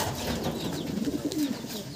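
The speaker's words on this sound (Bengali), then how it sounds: "এটা নর পায়রা, এটা হচ্ছে মাদি পায়রা" Low, rolling coos from Kalchira and other pigeon breeds in a loft in Nadia, a steady throaty burble repeating several times close by, with no talking.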